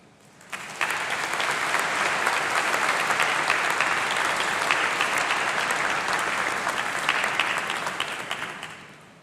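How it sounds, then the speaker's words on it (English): A large audience at a university graduation congregation breaks into loud, sustained applause that swells quickly, holds dense and steady for several seconds, then begins to fade. "let's give a huge round of applause, please, to those who have supported you and made all this possible"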